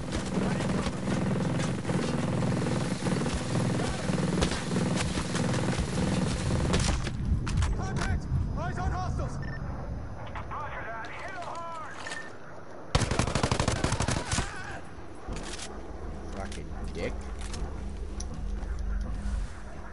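An enemy drone attacks with gunfire in the Ghost Recon Breakpoint video game, with loud bursts of automatic fire and rotor whine, then a quieter gap and a renewed volley of shots.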